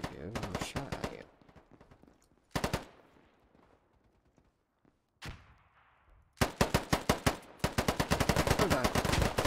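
Loud, close bursts of automatic gunfire in a shooter video game, fired in short rapid strings separated by quieter pauses.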